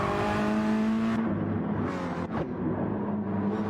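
Race car engine in a sim racing game at Tsukuba, a steady loud revving drone with shifting pitch as one car overtakes another on the inside, no voices.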